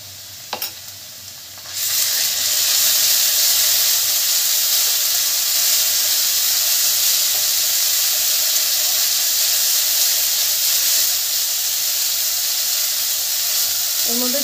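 Ginger garlic paste hits a hot frying pan for a khichuri and curry dish, a loud, steady hiss and sizzle that bursts in after a couple of soft clinks and holds without talk.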